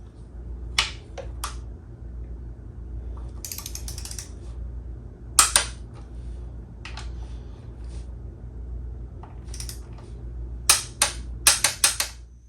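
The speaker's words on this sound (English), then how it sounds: "now we're just going to tighten them to 20 foot-pounds" A torque wrench tightens motorcycle rear set bolts to 20 foot-pounds, giving sharp isolated clicks and short ratcheting bursts over a steady low hum.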